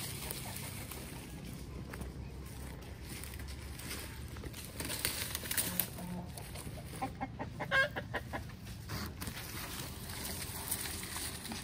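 Farm chickens head back into their coop on their own in the afternoon after feeding, clucking sparsely and faintly amid steady outdoor background noise, with a few soft scuffles and knocks.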